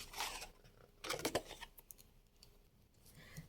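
Quiet, crisp snips of scissors cutting a rectangle out of cardboard, a few quick cuts clustered together, then softer scraping and rustling.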